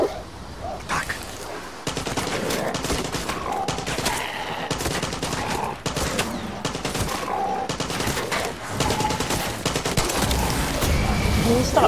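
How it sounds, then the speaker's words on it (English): Sustained gunfire in the video game Far Cry 6, dense bursts of rapid shots and loud crackling fire running nearly continuously, with a dog barking briefly in the mix. "Stop shooting, mate."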